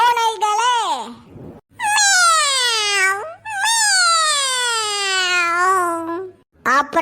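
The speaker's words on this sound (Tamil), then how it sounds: "இந்த பேய் பாஸ் வீட்டுக்குள்ள மியாவ் மியாவ்னு கத்துற பூனைகளே" Loud, exaggerated cartoonish meows from cartoon cats in a Tamil cartoon, several long drawn-out cries in a row with short gaps between them, close and prominent.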